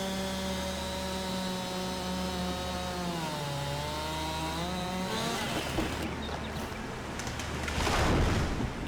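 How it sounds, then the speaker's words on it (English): A chainsaw roars steadily as it cuts into a stone pine in Farming Simulator 22, its pitch dipping under load partway through before breaking into rougher, noisier cutting near the end. "So the only option we got with stone pine is to use a good old chainsaw."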